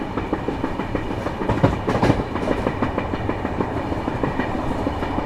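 An express train rolls along the Konkan Railway near the coast with rapid rhythmic clickety-clack and rumbling wheels, steady and close throughout.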